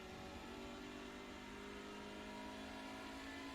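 Steady, droning engine of a TCR touring car in iRacing at Brands Hatch Grand Prix, held at high revs up through the gears to fifth, constant and close with no distinct shift breaks.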